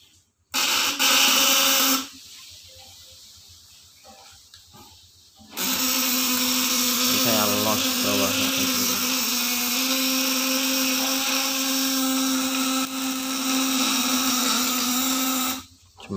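Electric fish shocker with a flip-flop inverter buzzes under test, a harsh steady electrical whine that cuts in and out in long bursts, loud and close, with pauses between.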